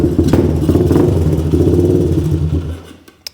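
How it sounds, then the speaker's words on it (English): A Honda 200X ATV engine runs close by with an uneven, pulsing putter as it struggles to idle, then dies away to near silence with a few small clicks at the end. "won't it idle?"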